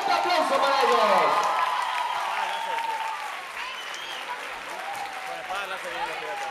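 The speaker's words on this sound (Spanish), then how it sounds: "Un fuerte aplauso para ellos." Crowd applause with scattered cheers at an Expomanga 2010 cosplay contest, rising early then settling into a steadier clapping bed while voices and whoops carry over it.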